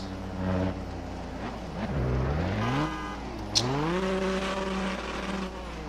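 A loud video-game car engine revs and surges repeatedly, its pitch sweeping up and down through several gear-like climbs, with a brief sharp click in the middle and no talking.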